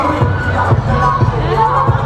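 Crowd noise at a gala dinner contest: a dense, sustained roar of audience cheering and shouting fills the room at steady loudness, with bursts of voices rising throughout.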